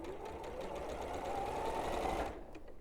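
An Elna 680 sewing machine stitches a seam allowance, a close, continuous mechanical whir and needle chatter running steadily for a couple of seconds before stopping.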